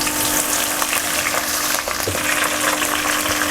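Garlic, cumin seeds and chopped green chillies fry in a pan with a loud, steady, crackling sizzle that stays close and continuous throughout, with no voices.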